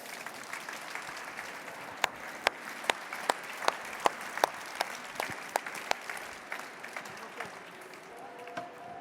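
Audience at a panel discussion on building a sustainable world breaks into applause, a dense run of clapping with sharp individual claps standing out, moderately loud and fading toward the end.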